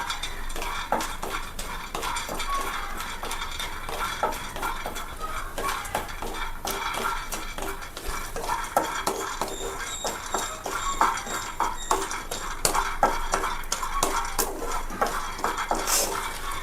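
A utensil scrapes and clatters against a pan in quick, irregular strokes as peanuts rattle about while roasting, close and continuous, with no talking.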